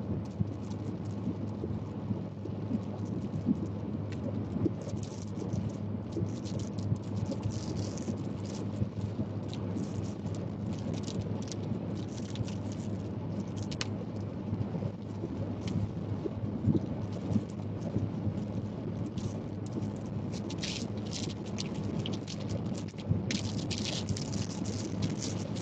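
Heavy driving rain from a thunderstorm near Lumberton hisses steadily for the whole stretch, with low rumbles of thunder underneath and scattered louder gusts and spatters on the surface.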